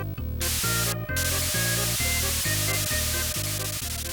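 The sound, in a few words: spray can tool sound effect in Mario Paint video game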